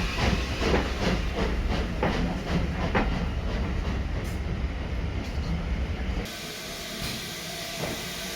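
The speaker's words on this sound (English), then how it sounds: "a departing brace of Austerities can make for a very impressive and noisy exit" A pair of Austerity steam locomotives departs a station at a Great Central Railway winter steam gala, giving loud rhythmic exhaust beats and hissing steam close by, then easing to a quieter rumble.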